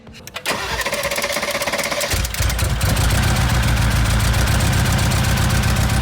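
A 2022 Mercedes G63 G-Wagon engine, being rebuilt after a wreck, cranks and starts, then runs with a loud, uneven low rumble that sounds rough and unsteady, close by with no talking.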